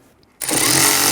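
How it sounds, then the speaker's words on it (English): A power tool with a 10mm socket suddenly whirs into a loud, steady run after a quiet pause, driving bracket bolts into the kick panel of a 1999-2004 Jeep Grand Cherokee. "I'm going to use our 10mm socket here. Let's go ahead and get these started."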